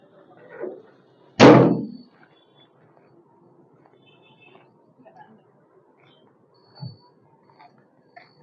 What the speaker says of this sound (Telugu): ఇది నేను డోర్ కూడా చూపిస్తాను చూడండి.